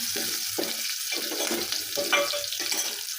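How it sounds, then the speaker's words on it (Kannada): Chopped onion fries in a hot pan while being cooked until reddish, with a steady bright sizzle and periodic scraping stir strokes at close range and no talk. "ಒಂದು ಸ್ವಲ್ಪ ಉಳ್ಳಾಗಡ್ಡಿ ಕೆಂಪಗಾಗೋವರೆಗೂ ನಾವು ಫ್ರೈ ಮಾಡ್ಕೋಬೇಕು"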